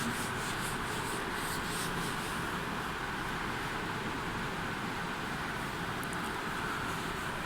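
Steady, even rubbing of writing being erased from a board during a classroom physics lecture, a continuous soft scraping hiss lasting throughout with no talk.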